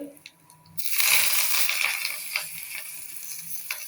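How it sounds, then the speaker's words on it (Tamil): Sudden loud sizzle of tempering for buttermilk bursting in hot oil with onion and curry leaves, then a steady crackling fry with small pops and spatters, close by. "மோர் தாளிக்கிறோம்"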